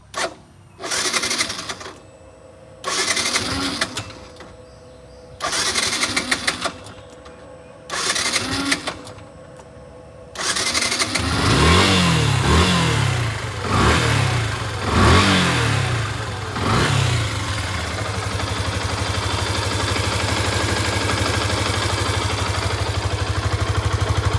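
A second-hand 2022 Yamaha FZ-S V2 fuel-injected motorcycle gives four short cranking bursts, then catches and revs sharply several times before settling into a steady, close idle with no talking.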